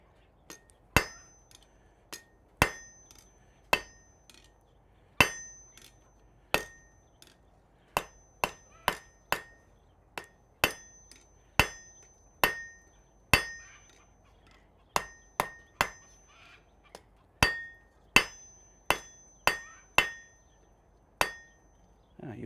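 A Hoffy hammer strikes hot metal in a smithy, half on and half off the anvil, giving a steady run of about two dozen loud, ringing metallic blows with short pauses between them.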